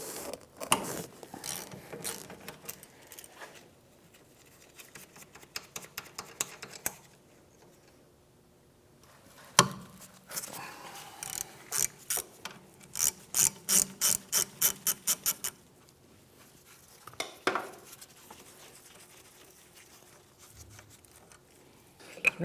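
Socket ratchet clicking in bursts while 14mm bolts come off the rear wheel hub of a 2011-2016 Hyundai Elantra, with several rapid close-up runs of pawl clicks broken by pauses and occasional metal knocks.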